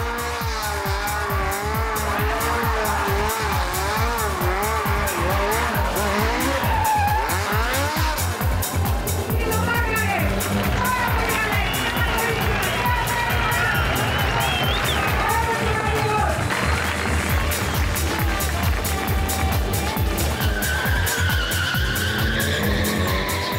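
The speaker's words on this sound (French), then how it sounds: "Le temps est arrivé pour Terry de choisir quelques personnes dans le public et de glisser autour d'eux." A stunt car driven by Terry Grant drifts in tight circles around spectators from the crowd, tires skidding and squealing loudly and continuously over a revving engine, with crowd noise and voices mixed in.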